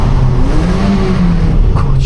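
A Toyota car revs loudly inside a tunnel, its engine drone steady and close with a rising whine, echoing off the walls, no voices.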